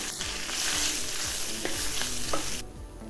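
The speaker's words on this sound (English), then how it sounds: "With my other onions, I want to saute them and get them browned with some bacon" Onions sautéing with bacon in rendered bacon fat, a hissing sizzle with quick repeated stirring scrapes in the pan, close and steady before the sizzle thins abruptly near the end; nobody speaks.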